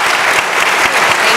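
Audience applause for a panel of political journalists at a Jewish Federations of North America event, a dense, steady wash of many hands clapping at full volume throughout the short stretch.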